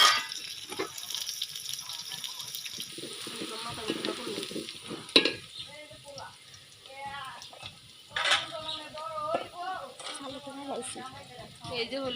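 Cumin paste stirred into hot oil for a Bengali jute-leaf dish, giving a steady close sizzle with scraping stirs and a few sharp clinks, someone talking over it throughout.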